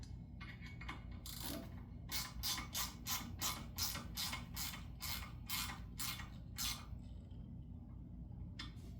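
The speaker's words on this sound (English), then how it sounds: "Ratchet." Ratchet wrench turning bolts during a Honda motorcycle build in a garage: a close, steady run of about a dozen rhythmic clicking strokes over a constant low hum, with no talking.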